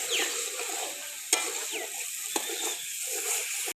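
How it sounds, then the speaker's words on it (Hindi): Ginger garlic paste fries in hot oil in a pan while chicken cooks, giving a steady close sizzle with a few sharp clinks of a spoon against the pan and no talking. "अदरक लहसुन के पेस्ट को भी थोड़ा सा भून लेंगे।"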